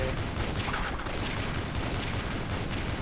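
A dense, continuous barrage of gunfire from the video game Avatar Star, loud and unbroken rapid shots filling the whole moment without pause.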